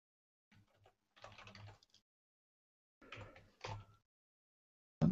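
Keys clatter on a computer keyboard in short bursts of rapid clicks separated by silent pauses, ending with one sharper tap, close and fairly quiet.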